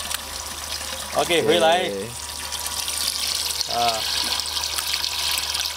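Steady rushing water pours continuously into a clay pot, with a couple of short spoken phrases over it.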